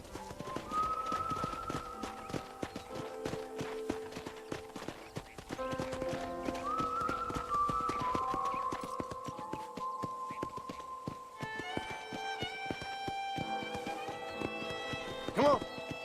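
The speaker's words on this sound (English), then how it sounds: "let's see if you can still ride a horse" Horse hooves clip-clop in a steady galloping rhythm while riding through a ranch in the video game Red Dead Redemption, with a whinny and game music playing underneath.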